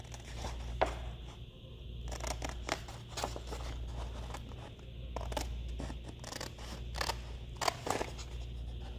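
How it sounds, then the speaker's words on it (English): Scissors cut carefully through paper from a pad, giving a series of soft, irregular snips and crisp rustles at close range over a low steady hum. "I'm going to cut it very carefully because I want to preserve the rest of the paper behind it"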